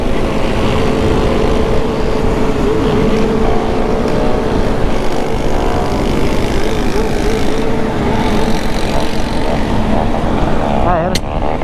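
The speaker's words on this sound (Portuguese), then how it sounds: "Olha o carro aqui, ó." A car engine drones loud and close throughout, steady with a slight rise near the end, as people talk over it.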